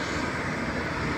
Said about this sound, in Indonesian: Saya akan menerbangkan drone